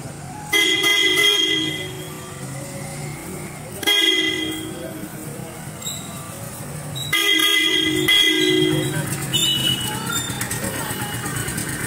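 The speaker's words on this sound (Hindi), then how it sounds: "ये वैसे इलीगल हॉर्न है अभी मैं आपको इसकी आवाज़ सुनाऊंगा जो कि बहुत ज़्यादा लाउड है" A loud, piercing aftermarket horn on a Hero Splendor BS6 motorcycle blares in three long blasts separated by short pauses, harsh and close, with steady background rumble between.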